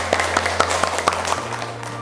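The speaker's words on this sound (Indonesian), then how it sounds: "Tepuk tangan buat kita semua" Classroom applause from students and teacher: a modest round of separate claps, somewhat uneven in rhythm and close by, over a steady low electrical hum.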